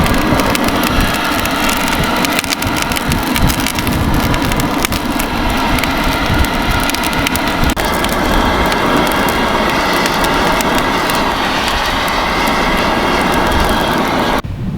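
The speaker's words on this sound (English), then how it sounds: "this is just a great easy way to just blow some hot air over your coals and get these coals ripping hot" Electro-Torch electric blower forcing hot air over charcoal coals, a steady loud broadband roar with constant rushing hiss, running unbroken from start to finish up close.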